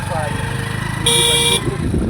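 A motorcycle engine rumbles steadily nearby while people talk, and a horn honks once for about half a second midway through.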